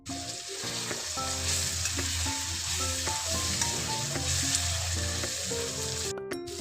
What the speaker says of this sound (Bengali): টমেটোগুলো বেশ ভালোভাবে ফ্রাই হয়েই এসেছে। এবার আমি এতে আদা বাটা অ্যাড করে দেব।